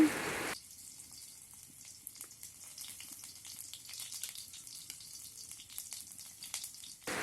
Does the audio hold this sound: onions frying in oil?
yes